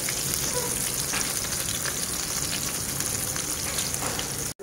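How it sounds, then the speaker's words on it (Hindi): Kebabs fry in a pan with a steady, dense sizzle that runs unbroken throughout, then cuts off abruptly just before the end. "इस तरह हम कबाब को फ्राई करते जाएंगे"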